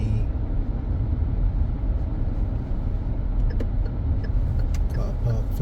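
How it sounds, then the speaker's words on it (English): A car drives into the Sky Mall car park in St. Michael, Barbados, its engine and tyre noise a steady low rumble, with a few faint clicks and rattles near the end. "So we are just driving through into Sky Mall"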